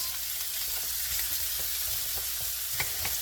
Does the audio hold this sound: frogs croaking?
no